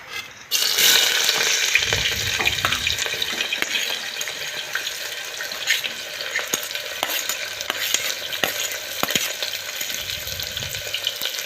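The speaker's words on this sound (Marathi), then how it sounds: "हा कांदा आपल्याला लाल होईपर्यंत परतून घ्यायचा आहे" Onion frying in two large spoons of oil with cumin for a Marathwada-style masale bhaat, a steady, close sizzle with repeated spoon clinks and stirring scrapes throughout, no voices.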